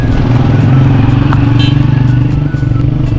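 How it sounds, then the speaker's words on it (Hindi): Motorbikes rumble past close by at the entrance of a historic fort, a loud low engine drone with a throbbing beat, steady over a few seconds and dipping slightly near the end. "आप बाइकों को नहीं रोक सकते दोस्तों"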